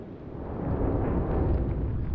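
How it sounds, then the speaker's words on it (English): A warship's magazine blows up in the naval game Atlantic Fleet, a deep rolling explosive rumble that swells and sustains, loud and heavy in the low end. "And that was a magazine explosion for sure."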